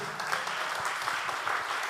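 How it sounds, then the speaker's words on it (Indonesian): A church congregation at a worship service applauds, a fairly soft, steady wash of many hands clapping at a distance. "Beri tepuk tangan dulu untuk Tuhan kita."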